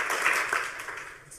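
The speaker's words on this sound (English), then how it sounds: "do some clapping so they can hear it on the video too" An audience at a hacker conference talk claps together in a dense burst that peaks early and then gradually tapers off, with no speech over it.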